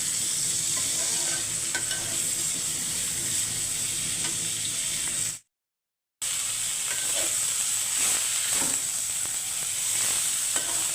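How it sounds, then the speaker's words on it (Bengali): Onion, garlic and green chilies frying in a little oil give a steady, close sizzle with light stirring scrapes, broken by a brief silent gap midway before the hiss resumes. "প্রথমে আমি পেঁয়াজ রসুন কাঁচামরিচগুলো হালকা তেলে ভেজে নেব"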